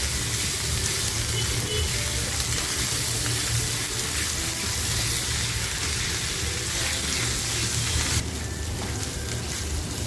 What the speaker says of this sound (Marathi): ते वाटण टाकते मी याच्यामध्ये आणि हे सुद्धा आपल्याला मस्त असं फ्राय करून घ्यायचं आहे